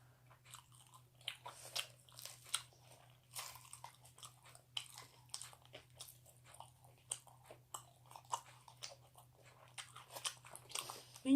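Crunchy, wet bites and chewing of pickled radish (danmuji) close to the mic, irregular crisp crunches repeating over a quiet steady hum.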